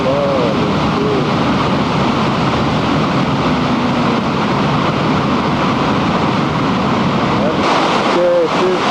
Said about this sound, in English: There's water, the big flow coming down.